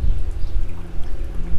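Water poured into containers for chickens on a farm, a steady gushing and splashing pour that swells and dips throughout, close by with no voices.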